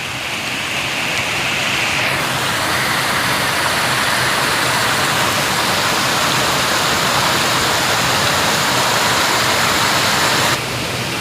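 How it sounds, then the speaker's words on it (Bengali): Loud, steady roar of a rushing mountain river near Parasnath Hill, Jharkhand, filling the whole stretch, constant and close with no pauses. "এইখান থেকে চলে যাচ্ছে নদীটা, এই চলে যাচ্ছে"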